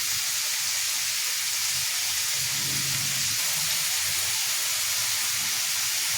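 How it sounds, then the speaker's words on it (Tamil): Tomatoes sautéing in a pan with a little salt for a vegetable curry, giving a steady, even sizzle and hiss that holds throughout, close by and alone. "தக்காளி வதங்குறதுக்காக."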